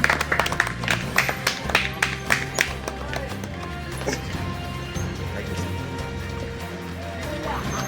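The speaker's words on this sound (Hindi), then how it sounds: "सदाजी जोरदार तालियों से इनका स्वागत कर रहे हैं।" Enthusiastic audience applause welcoming guests at a Hindi poetry gathering, a dense burst of clapping that is sharp at first and then settles into a steady, continuous patter.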